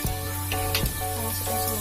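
Spice paste for Palembang laksan hits a hot pan and sizzles steadily, close and moderately loud, with a faint background hum.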